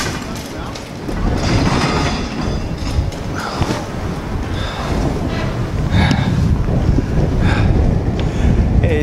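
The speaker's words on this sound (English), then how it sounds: "Just look at the rain pouring across as the freight train passes." A freight train passes in pouring rain near the Ribblehead Viaduct, a loud continuous rumble and roar mixed with heavy wind buffeting the microphone, sustained and close throughout.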